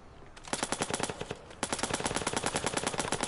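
Rapid automatic gunfire in the video game Watch Dogs 2, a dense burst of sharp shots followed after a short gap by a second, longer burst, loud and close with no talking.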